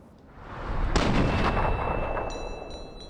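A single sharp gunshot rings out in Fallout 3, a loud broadband crack with a lingering rumbling tail, followed by quieter game ambience and a faint high electronic tone.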